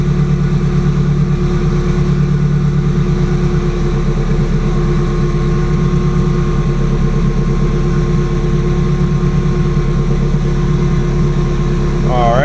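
A Subaru GC8 idles at about 1,000 rpm during a cold start warm-up, a steady, close engine hum with a fine rhythmic pulse and a faint whine, and one pitch sweep near the end.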